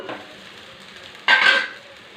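A spoon mixes cooked rice into potato masala in a pan, with a soft faint scrape followed by a louder burst of stirring and sizzling that fades after a moment.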